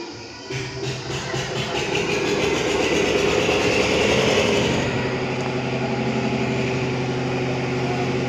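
A Massey Ferguson tractor engine runs at an ashram in a village, a loud, continuous diesel rumble with a rattling, throbbing drone that builds in the first seconds and then holds steady, with no talking.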